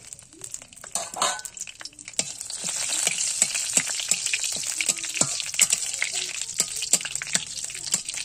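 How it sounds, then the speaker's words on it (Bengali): A bay leaf drops into hot oil in a pan for a potato and pointed gourd curry, and a bright, crackling sizzle builds and holds, peppered with sharp spitting pops, close and loud with no talking. "তেলটা গরম হয়েছে নাকি দেখি। আর দেব তেজপাতা।"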